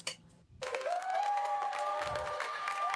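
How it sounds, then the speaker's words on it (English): Studio audience applause with cheering breaks out after a short quiet gap and holds steady and loud, a dense wash of clapping filling the room. "you got a lot of claps for that"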